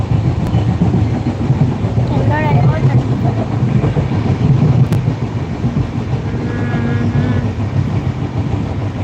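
A passenger train rumbles steadily along the rails with a continuous rolling clatter, heard from on board, close and loud throughout, with faint voices mixed underneath.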